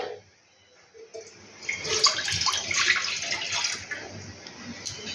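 Water pours into a wok on a lit gas stove in a home kitchen, a steady splashing stream that swells and continues for several seconds, fairly close.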